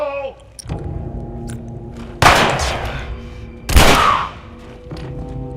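Gunfire in The Last of Us Remastered: two loud, sharp shots a second and a half apart, each with a ringing tail, heard over a low game-music bed and ambient tones.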